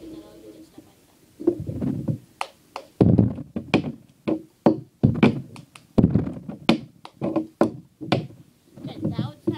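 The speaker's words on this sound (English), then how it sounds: "I'm going to show you how to do the cup song" Plastic cups slapped and tapped on a tabletop with hand claps in the fast cup-song rhythm, crisp close percussive hits in quick repeating patterns, with a brief voice at the start.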